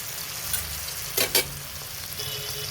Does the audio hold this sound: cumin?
yes